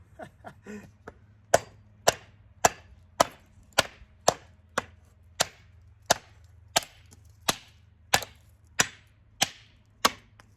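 A series of sharp wooden chops from a Condor Undertaker Bowie knife chopping wood, about a dozen evenly spaced strikes ringing close and loud over a low steady hum.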